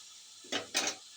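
Chicken pieces are sautéed in a pan for a chicken gravy, two quick scraping, sizzling stirs close by in an otherwise quiet kitchen.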